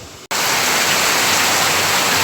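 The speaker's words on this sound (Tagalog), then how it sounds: "bumuhos na yung malakas na ulan ngayong hapon" Heavy afternoon rain pours down at a small chicken farm, a loud, steady broadband rush that starts abruptly after a brief quieter moment and continues unbroken, with no talking.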